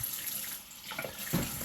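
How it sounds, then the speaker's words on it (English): Dishes being washed at a sink with the tap running, a faint steady rush of water and a few soft clinks, heard alone. "I am washing up, so excuse the noise in the background"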